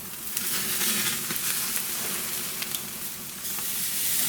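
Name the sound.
tomahawk rib eye steak sizzling on a hot grill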